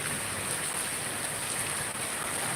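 Steady rain falls onto soil outdoors, a dense, continuous hiss of drops that stays even and fairly close throughout, with no voices.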